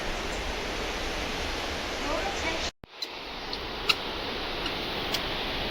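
A stream flows below a walkway near a waterfall in Japan, giving a continuous broadband rush with occasional small ticks and knocks and faint voices in the background.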